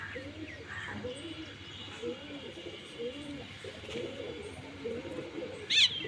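Repeated soft, rolling coos from pigeons, several overlapping calls in a steady rhythm, with a faint chirp near the end.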